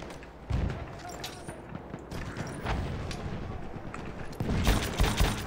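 Gunfire in the Battlefield 1 war game comes as scattered loud shots and short bursts over a busy battlefield background, building to heavier firing at the end, with a voice in the background.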